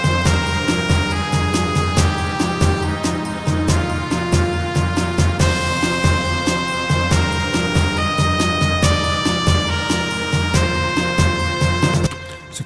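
Heroic orchestral music for a ground-type Pokémon character theme, with bold strings and horns over steady percussion, loud and continuous with no talk.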